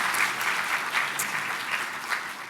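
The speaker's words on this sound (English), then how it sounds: "A round of applause for them as well." A student audience at a university talk claps for the event ambassadors, a moderate, fairly distant wash of many hands with a few sharper individual claps, steady throughout.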